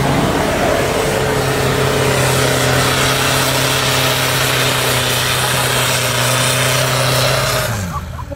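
A budget-build car engine revs hard while the vehicle drives on sand, a loud sustained droning roar with strong steady tones that shift in pitch near the end as the engine note drops away.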